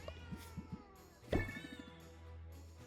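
Cartoonish cats meow in the video game Potionomics, a few short mews early on, then one louder, longer meow in the middle, over steady game music.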